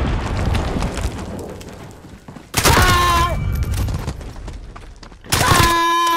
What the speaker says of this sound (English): Deploying grenade!